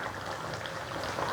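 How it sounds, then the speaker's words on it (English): Fish head curry made with giant golden snapper bubbles steadily in a pot, a continuous close simmering and popping texture with no talk. "the curry is boiling now."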